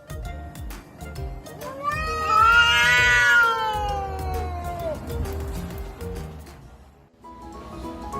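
Two cats caterwauling together, a loud drawn-out yowl rising and falling over several seconds, with quieter meows and background noise around it.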